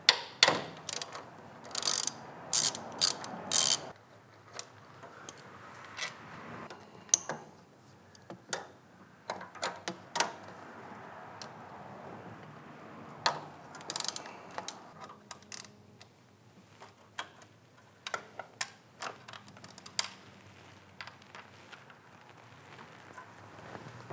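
A hand ratchet clicks in short bursts while backing out two 10mm bolts holding the intake inlet on a 2015-2020 Subaru WRX, close and crisp, with pauses and light metallic handling between runs.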